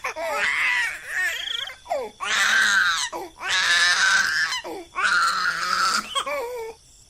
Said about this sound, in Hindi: गुड़िया के रोने की आवाज से कोमल की लाश तड़पने लगती है